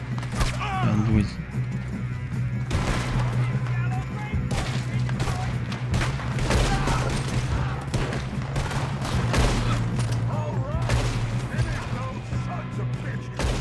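Gunfire rings out in the video game Red Dead Redemption 2, a ragged fusillade of shots and cracks over a steady low background hum, with characters talking in between.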